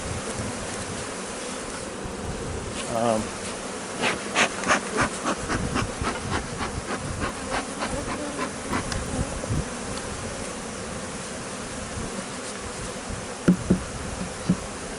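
Honeybees buzz densely around a hive during a large beehive removal, a constant close swarm drone with individual bees flitting past the ear, no one talking.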